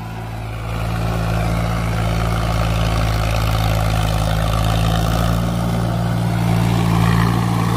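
A Sonalika 35 tractor engine runs at a steady idle, a loud, continuous low droning hum with a constant rumbling pulse that holds unchanged for several seconds with no voices.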